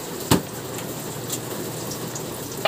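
Steady rain patters outside against a continuous hiss of falling water, with a couple of sharp drips or knocks nearby, heard while plain rice porridge is being eaten indoors.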